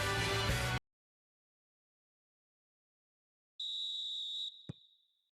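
A referee's half-time whistle in a simulated Barcelona vs Rayo Vallecano LaLiga football video game: one clean, shrill, sustained blast of about a second that follows a stretch of silence, then a short click.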